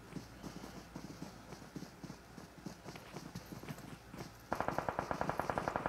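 Gunfire in a multiplayer shooter game, a steady run of rapid clicking shots that grows louder and denser near the end, close and without talk.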